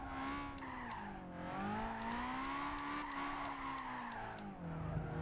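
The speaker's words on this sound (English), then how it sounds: "It seems to want to keep sliding as well, which is good." Tires squeal steadily on a Toyota Levin AE86 held in a long drift in the racing game Gran Turismo 5, a continuous sliding whine with engine tone underneath and faint periodic ticks, with no talking.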